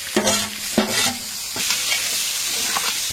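Onions, green chillies, cinnamon, cloves and tomatoes fry in sunflower oil in a large pot for a wedding-style meal for a hundred, with a loud steady sizzle and a few scraping stirs of a ladle near at hand.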